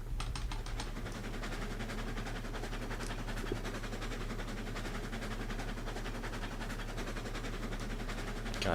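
Steam train engine in Railroads Online hauling a heavy log load, a steady low rumble and chuffing drone running continuously at even level with faint clicking over it.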